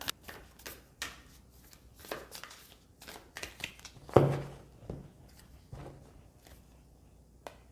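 Angel Oracle cards shuffle and slide against one another in a tarot reading, a series of soft close papery flicks and riffles with a sharper card snap near the middle.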